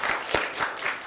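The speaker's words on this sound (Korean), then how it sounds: "박수로 환영해 주시기 바랍니다." A church congregation in Seattle claps to welcome a new young member, a short burst of applause heard throughout.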